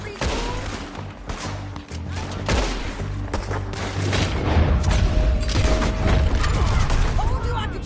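Gunfire from a Red Dead Redemption II shootout, with repeated sharp shots and booms over a low rumbling game score. Some fire comes in quick bursts, loud and close, with voices speaking in places.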